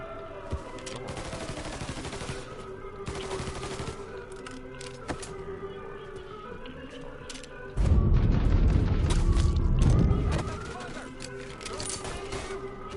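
Scattered gunshots ring out in the video game Mafia 3 alongside game music and voices, then a loud, dense burst of heavy fire and explosions erupts for a few seconds before fading back to sporadic shots.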